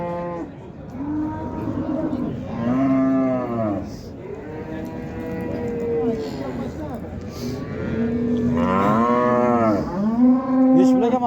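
Dairy cows at a livestock bazaar in Karshi low repeatedly, several long, drawn-out moos following one another close by, with crowd noise and faint voices in the background.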